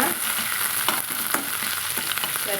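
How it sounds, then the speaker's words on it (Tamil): Tender eggplant pieces sautéing in a pan for an egg and eggplant curry, a steady close sizzle with scraping stirs running throughout, no talking. "நல்லா நம்ம வதக்கலாம்"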